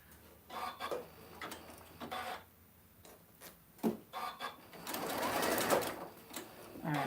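A sewing machine runs a straight stitch on a picnic basket project in short whirring bursts, then one longer steady run, with a person talking over it.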